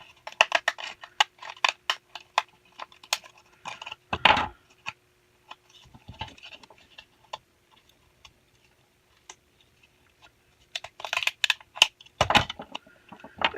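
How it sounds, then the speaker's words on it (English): Scissors snip through paper edging in quick bursts of crisp clicks and cuts, close and fairly quiet, with pauses between runs of snipping. "Let me cut it real quick with the scissors"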